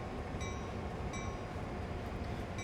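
A CSX diesel locomotive idles and creeps along in Train Sim World 2, giving a steady, fairly loud engine rumble and rail noise with no pauses.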